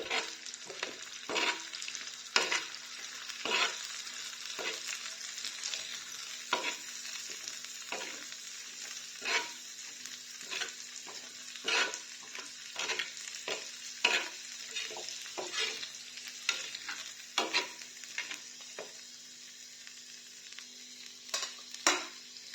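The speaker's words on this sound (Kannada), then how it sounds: "ಒಂಚೂರು ಕಲರ್ ಚೇಂಜ್ ಆಗೋದು 15 ನಿಮಿಷ ಫ್ರೈ ಮಾಡ್ಬೋದು" Masala paste frying in a pan for fish, a continuous sizzle broken by frequent sharp spatula scrapes and clinks at an uneven rhythm, close up with no talking.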